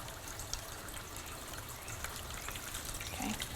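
Water spraying and trickling from a homemade DIY fountain, a soft, steady, faint splashing wash with no voices.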